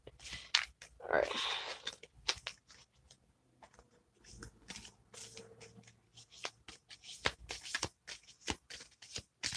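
Quick, papery clicks and soft riffles of playing cards being shuffled, close by, in irregular bursts with a few louder snaps.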